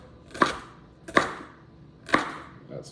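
A knife chops Brussels sprouts and carrots on a cutting board in three distinct, close, sharp strokes spaced about a second apart.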